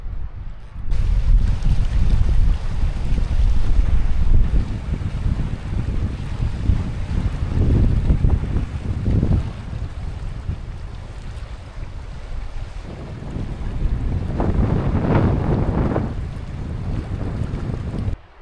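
Strong wind buffeting the microphone aboard a boat at sea in an archipelago, a continuous loud roar with gusts swelling and easing, and water sloshing underneath, with no voices.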